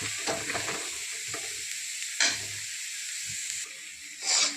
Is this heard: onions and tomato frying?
yes